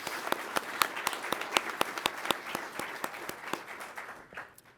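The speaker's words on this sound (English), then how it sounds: "So a round of applause for them." Steady applause from a graduation audience at an undergraduate pilot training class ceremony: many close, sharp hand claps over a dense wash of clapping, loud and continuous, easing off at the end.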